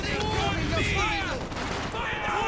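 Rapid gunfire bursts from a quad half track in a Company of Heroes 2 battle, dense overlapping shots with chirping ricochet-like tones over a constant loud battle din, with a faint voice underneath.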